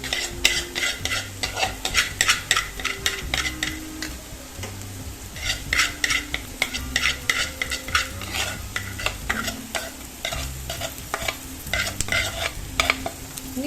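Clam meat fries with onion and turmeric while a spoon scrapes and clacks against the pan in quick repeated strokes, over a constant close sizzle; no voices.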